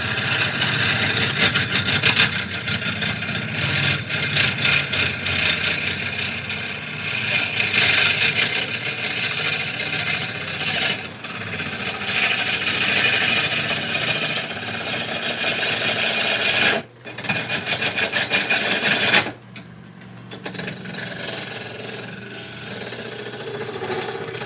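A wood lathe shear-cuts a cracked bowl, a loud continuous scraping hiss of tool on spinning wood that stops briefly twice, with a steady motor hum beneath it.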